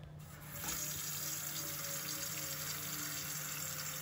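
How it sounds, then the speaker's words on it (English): Tap water runs steadily into a pot, a continuous rushing splash with a faint low hum underneath, starting softer then filling out. "So we filled our pot with water."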